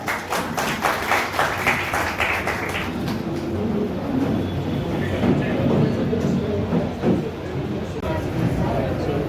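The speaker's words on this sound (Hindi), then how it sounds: "जोरदार तालियां उनके लिए एक बार।" An audience at a political party stage event applauds, irregular clapping rising at the start then settling into a steady crowd wash with a murmur of voices beneath, moderately loud.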